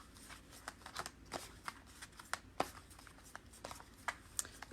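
Tarot cards are shuffled by hand, giving a quiet, steady run of soft riffles and crisp snaps up close.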